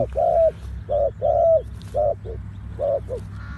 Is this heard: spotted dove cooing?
yes